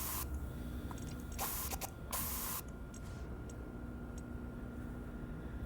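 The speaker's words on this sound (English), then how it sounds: "And if we spray paint a little," Spray painting in the space-station game Stationeers: two short hissing bursts of a spray can, close and clear over a low mechanical hum and faint ticking.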